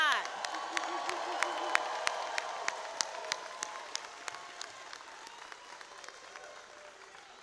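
At a 2025 college commencement, a distant audience applauds and cheers for graduates' families and friends, a soft wash of clapping with a few sharp, rhythmic claps standing out and faint whoops, slowly fading.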